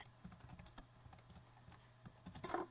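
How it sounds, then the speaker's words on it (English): Quiet, rapid typing on a computer keyboard, keys tapping in uneven bursts and growing a little louder near the end. "I just hear you typing away"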